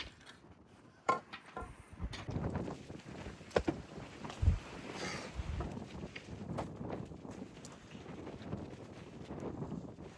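Strong wind on Girnar mountain buffeting the microphone in gusty rumbling waves, with occasional thumps and rustles of movement up close and no talking.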